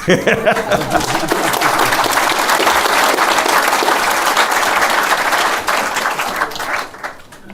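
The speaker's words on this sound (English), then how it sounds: "Addiction, thank you, you can applaud." Conference audience at a Castle Craig addiction-recovery reunion breaks into sustained applause, loud and dense with a few chuckles mixed in, holding steady before tapering off near the end.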